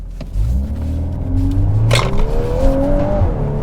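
A 2022 MK8 Volkswagen Golf R with a DSG gearbox accelerates hard in drift mode, its engine note climbing steadily in pitch with a loud, close rumble and a short burst of noise partway through.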